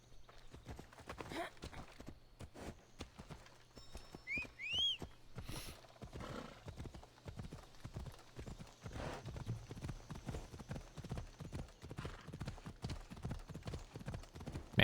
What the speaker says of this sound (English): Man, horses really go in this game.